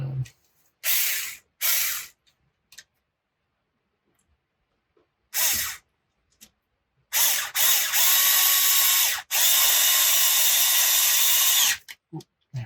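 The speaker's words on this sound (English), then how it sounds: "now I'm going to use my whizzer" A powered ratchet driver whirs in short bursts and then longer runs while tightening bolts on a titanium chassis for an Arrma Typhon RC car, a loud close buzzing rattle separated by silent gaps.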